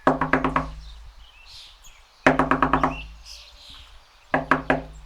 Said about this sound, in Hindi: दरवाजे पर जोर से खटखट होती है